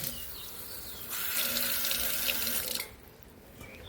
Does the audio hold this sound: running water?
yes